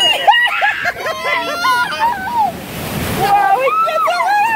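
Rushing water and surf-like spray on a rapids ride as a raft passes under a waterfall, a loud continuous wash beneath excited shrieking and chattering voices of riders.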